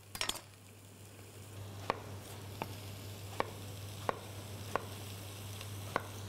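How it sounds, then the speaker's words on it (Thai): Bell pepper stir-frying with garlic in a pan, a steady soft sizzle broken by a spatula clinking against the pan about once a second. "เอาพริกหยวกเข้าไปผัดกับกระเทียมนะคะ"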